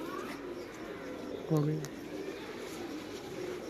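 A pigeon in Lahore gives a single short, low coo midway, close but soft, over a quiet background with faint voices.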